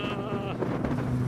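Wind buffets an outdoor microphone at a modified-car show in Britain, a steady rough rumble filling the low end for just over a second, with a faint tonal murmur early on and no clear talk.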